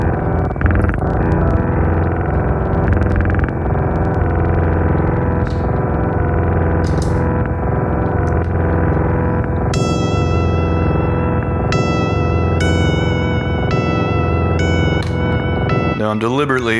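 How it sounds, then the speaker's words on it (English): A Loupé lo-fi audio effect plays a reversed stutter with drift, giving a smeared, time-stretched texture over dense distorted, echoing tones, ending in rising glitchy repeats. "technically it's a stutter with drift, but it sounds like a time stretch to me"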